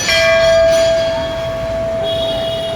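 A temple bell at Mansa Devi temple rung by devotees, a clear sustained metallic ring with a lingering tone under a busy ambient background, no talk.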